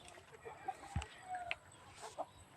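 Farm chickens cluck near and far in scattered short calls, soft bursts and a brief squawk over a quiet outdoor background.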